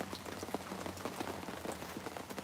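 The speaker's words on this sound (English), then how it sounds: "What is all this water falling from the sky?" Rain patters steadily on a surface, a dense crackle of drops at moderate, fairly quiet level with no speech.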